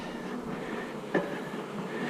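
Honey bees from the field force buzz around a queenless hive in a steady, moderate drone, with one closer bee briefly passing near midway.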